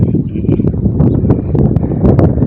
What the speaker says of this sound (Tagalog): Malakas ang hangin dito mga guys oh.